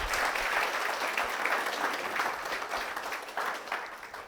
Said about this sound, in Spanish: usted le va a dar un fuerte aplauso a Cristo porque Él se lo merece